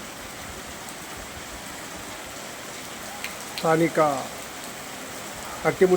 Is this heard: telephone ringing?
no